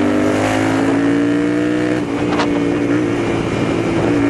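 A Royal Enfield Interceptor 650 twin-cylinder motorcycle accelerates loudly and steadily up close, its engine note climbing with a brief dip partway through, with no voices.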